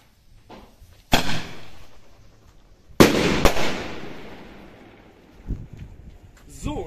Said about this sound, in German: Zuerst machen wir Salut Orange